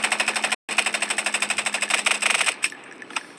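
Rapid automatic gunfire in a Roblox shooting game: a fast, even stream of loud, close shots with a brief gap, then a few scattered shots trailing off at the end.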